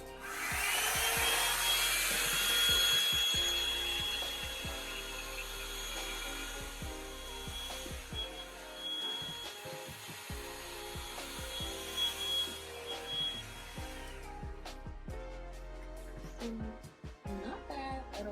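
Revlon One Step hair dryer brush blowing through natural hair, a steady loud whir of the motor and airflow with brushing rustle, dipping and surging as the brush moves, no talk.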